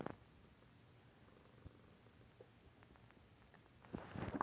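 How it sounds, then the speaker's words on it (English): A cat named Snowy purrs softly and steadily as a faint low rumble close to the listener, with a few small clicks and a rustling noise building at the end. "Are you purring, Snowy?"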